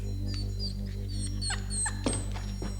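A dog indoors near church pews gives short whimpers and yips over a steady low hum, several brief cries in quick succession at close range.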